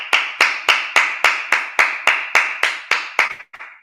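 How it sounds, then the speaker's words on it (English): A congregation at a Sabbath service clapping in unison, about a dozen loud, evenly spaced claps in a steady beat that ends with a couple of ragged, uneven ones. "Clap it up."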